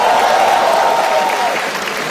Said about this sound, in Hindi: थोड़ी तालियां हमारे ओपनिंग एक्ट के लिए भी।